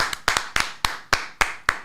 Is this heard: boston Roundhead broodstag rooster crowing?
no